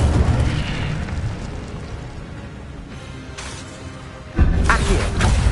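A fire spell blasts with a sudden loud whooshing burst in the Hogwarts Legacy video game, rising abruptly out of a steady rumbling battle background and carrying on as a dense roar.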